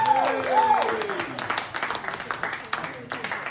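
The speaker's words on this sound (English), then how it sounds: "Can we have a round of applause for him?" Audience applause at the Barnet Eye Community Awards 2019 rises after a voice finishes speaking, with scattered, moderately loud clapping building across the hall.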